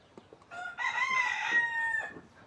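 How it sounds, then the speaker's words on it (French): A rooster crows loudly and close by, a drawn-out call rising over faint background clucking from nearby hens. "Donc vous entendez les poules"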